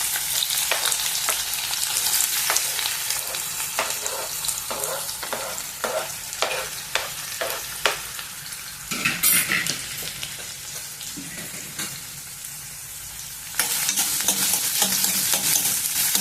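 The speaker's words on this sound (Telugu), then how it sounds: "సన్నగా తరిగి ఉంచుకున్న ఉల్లిపాయలను కూడా వేసేద్దాము" Thinly chopped onions fry in hot oil for a masala curry, giving a steady close sizzle broken by repeated sharp scrapes and clacks of stirring. The sizzle swells louder near the end.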